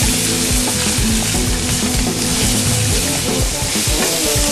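Mushrooms stirred into chicken in a hot pan for a mushroom chicken dish, a steady loud sizzle with scraping and clattering of the utensil throughout, no talking.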